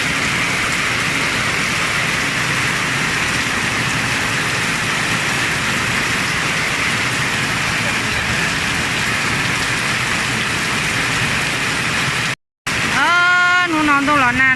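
Steady rain pours down without a break for about twelve seconds, a dense even hiss close by. It cuts off briefly, then a voice and other sounds come in at the very end.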